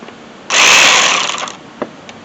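A ratchet wrench loosens a size 10 bolt on the radiator of a 2003 Jeep Liberty, giving one loud, close, continuous burst of mechanical clicking that lasts about a second and then fades away.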